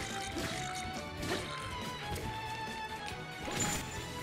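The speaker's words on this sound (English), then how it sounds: "I sort of shatter sound effect behind me." A loud shattering crash in Breath of the Wild during a fight with a black bokoblin, set against a busy game soundtrack, with a second burst of breaking near the end.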